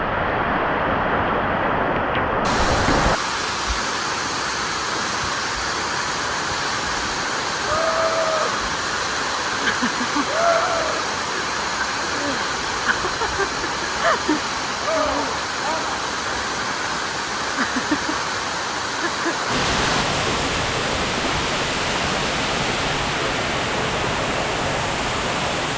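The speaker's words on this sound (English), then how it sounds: "Alright, we're behind the waterfall now." Ngardmore Falls, the tallest waterfall in Palau, heard from behind the falling water: a loud, steady, broadband roar that fills the whole stretch without a break, with faint voices briefly audible beneath it.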